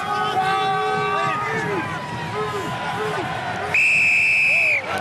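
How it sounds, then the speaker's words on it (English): A referee's whistle at a Top 14 rugby match between Stade Francais and Perpignan gives one long, loud, shrill blast near the end, over a steady stadium crowd murmur and commentary. "Once again, referee's whistle prevents the ball being played."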